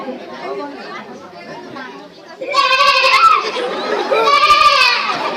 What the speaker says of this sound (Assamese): ছাগলীজনী কেনেকৈ মাতিছে শুনক